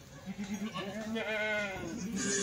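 A goat, a nursing Kathiawari doe, bleats once in a long, wavering cry close by during milking, over a low background hum and faint rhythmic noise.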